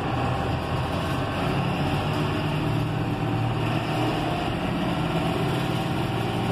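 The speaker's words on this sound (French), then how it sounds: "Le tracteur accélère" A John Deere 6620 Premium tractor engine runs steadily and loud throughout, a constant deep rumble with no clear rise in revs.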